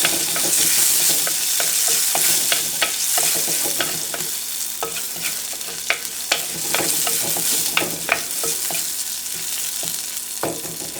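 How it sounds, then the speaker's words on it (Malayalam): Green chillies and ginger fry in a pan for Kerala-style puli inji, giving a steady close sizzle broken by frequent sharp scrapes and taps of a stirring spoon, with no voices. "ഈ സമയത്ത് നമ്മൾ പച്ചമുളക് ഇട്ടിട്ട് ഒന്ന് ജസ്റ്റ് ഫ്രൈ ചെയ്ത് കൊടുക്കാം."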